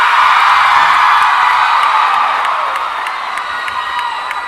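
A large Comic-Con 2015 panel crowd cheers and whoops loudly as Once Upon a Time cast members are introduced, a roaring wall of screams and shouts that fades slightly toward the end.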